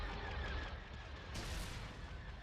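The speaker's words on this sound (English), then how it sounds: "Direct fire with their laser cannons." Laser cannon fire in a Star Wars space strategy game battle: a dense, continuous barrage of blasts and booms, with a brighter, louder burst about halfway through.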